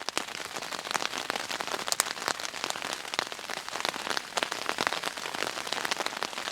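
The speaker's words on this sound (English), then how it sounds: "it's been raining for a little bit" Rain pattering on an ALPS Mountaineering Zephyr one-person tent at night, a dense, steady patter of drops with scattered louder hits, close and continuous with no voices.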